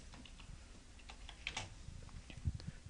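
Typing on a computer keyboard at a desk, a steady patter of soft key clicks with a few sharper taps and an emphatic keystroke near the end, close and alone.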